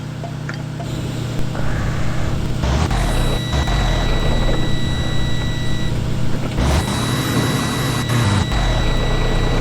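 A bus engine left running sits idling with a steady low rumble and a thin constant whine, continuous and fairly loud, with no talking over it.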